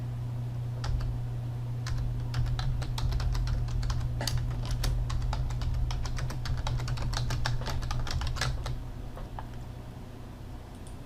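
Quick bursts of close computer-keyboard typing in Notepad++ patter unevenly over a low steady hum, with no one talking.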